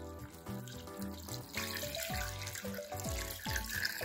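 Tap water pours into a pot for boiling pork trotters, a close, continuous running stream whose pitch shifts and rises as the pot fills, with no voices over it.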